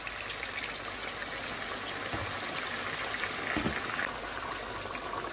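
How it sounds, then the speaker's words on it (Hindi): Water pours and bubbles into a cooking pot of beef trotters for a beef paya curry, a continuous soft liquid gush with a couple of brief clunks, heard alone and fairly quiet. "2 कप पानी डाला है,"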